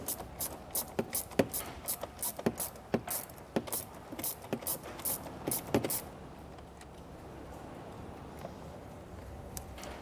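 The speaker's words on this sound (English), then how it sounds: "we can remove this nut with a 10mm size socket" A ratchet with a 10mm socket turning the nut on the positive battery terminal of a 2024 Kia Telluride, a run of quick clicking strokes close by, then quiet.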